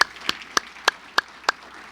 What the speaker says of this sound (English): Please join me in a round of applause for the students.